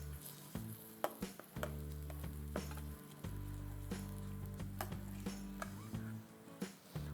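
A spoon stirs tempering into a pot of millet porridge (kambu koozh) off the heat, with steady scraping and swishing strokes over a constant low background hum.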